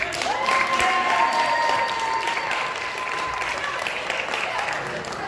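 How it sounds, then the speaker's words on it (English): Applause from a comedy-show audience, loud and sustained for several seconds, with a voice speaking over the clapping. "a round of applause, please"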